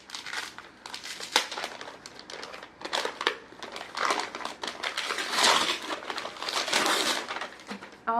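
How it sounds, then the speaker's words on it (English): Gift-wrapping paper crinkles and tears as a wrapped board book is opened, a steady run of close crackling and rustling with louder bursts, and no talk. "I'm gonna unwrap the biggest one first."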